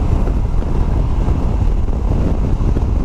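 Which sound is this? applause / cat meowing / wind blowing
wind blowing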